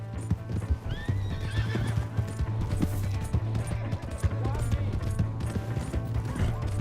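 In Red Dead Redemption 2, a horse's hooves clip-clop in a fast, steady gallop while it whinnies, with talk layered over the hoofbeats.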